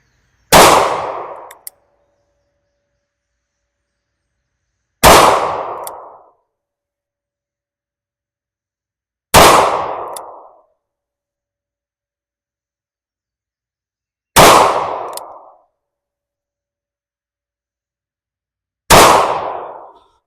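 Five loud gunshots from a Taurus 38 Special 856 revolver, each a sharp crack with a short ringing decay, spaced about every five seconds with silence between, no talking.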